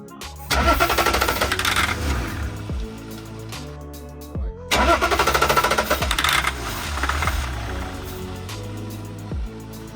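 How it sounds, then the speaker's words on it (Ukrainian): An old German diesel car engine cranks and catches on starting fluid sprayed into the intake manifold, running in two loud bursts with a sputtering pause between them, then dying back to quieter cranking and knocks. The diesel fuel is not getting through. "Він заводиться на плаку"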